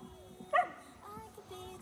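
A dog gives a short, close whimper during a trick session at an outdoor animal-welfare event, one brief whine rising above quiet background murmur.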